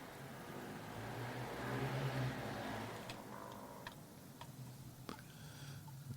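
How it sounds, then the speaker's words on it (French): A motorbike passes faintly in the distance, a low engine whine that swells and then fades, with light ticking sounds scattered over the end. "Désolé pour le bruit, c'était un fou à moto."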